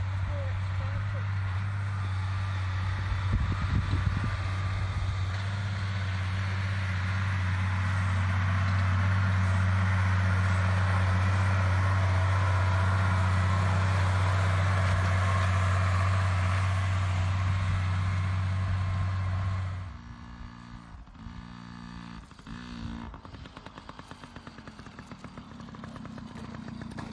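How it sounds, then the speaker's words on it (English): A Case 440 horsepower tractor spring digging in a field drones with a loud, steady engine hum for about twenty seconds, then drops to a rougher, quieter rumble, with a voice talking over it. "that tractor is a Case 440 horsepower tractor"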